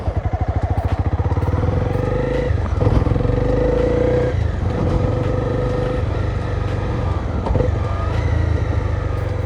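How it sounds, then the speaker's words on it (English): A motorcycle engine drones loudly and steadily from the rider's point of view during a rev-matched downshift from third to second gear, with a whine from the clutch being released too early and brief dips and surges in pitch. "a whining noise. That's because I dumped the clutch too early."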